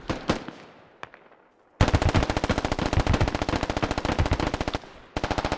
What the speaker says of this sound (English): AR throwing all the rounds he can to try to get the gunner off the turret.